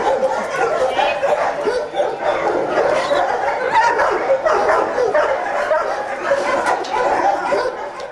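Galgo dogs let loose bark, yip and whimper in a continuous excited chorus, loud and close, with overlapping yelps throughout and faint human sounds mixed in.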